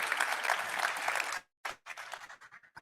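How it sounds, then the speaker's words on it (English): Audience clapping at a Rotary International address, a dense burst of applause that cuts off abruptly, followed by scattered trailing claps fading out. "Please go ahead and clap."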